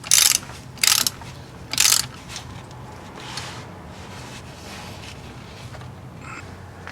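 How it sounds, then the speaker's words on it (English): Ratchet tightening a motor mount through bolt: three sharp bursts of rapid clicking in the first two seconds, then faint scattered ticks and a quiet workshop background. "Next we tighten this bolt,"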